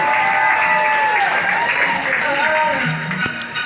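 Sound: audience applause for Ron on a Carnival cruise

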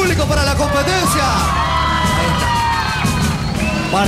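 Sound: audience shouting and cheering at a competition

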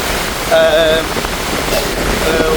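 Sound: storm waves and rain during Cyclone Ditwah at Jaffna coast

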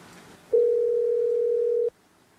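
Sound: telephone call tone

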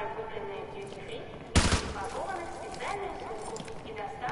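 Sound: gunfire in video game Call of Duty

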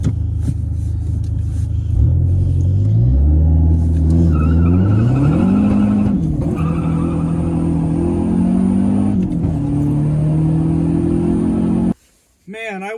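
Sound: Dodge SRT-4 car accelerating and revving

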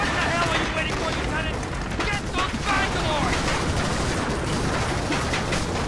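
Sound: enemy gunfire in the video game Medal of Honor Allied Assault

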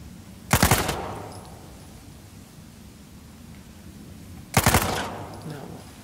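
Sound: gunfire in the Uncharted 4 video game

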